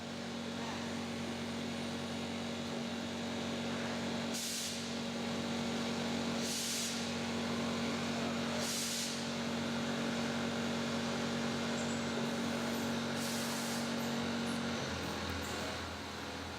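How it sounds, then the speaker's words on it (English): Machine tools cutting a spinning brass rod into a scuba regulator body, a steady mechanical hum with a strong tonal whine throughout and several brief bright hissing bursts, ending with a shift in tone. "The brass rod spins and the tools remain stationary."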